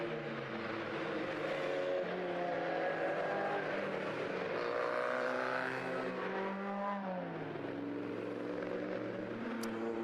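Racing cars at Oulton Park circuit sweep past in a steady stream of engine whine, with one loud car rising and then dropping in pitch as it passes near before fading away.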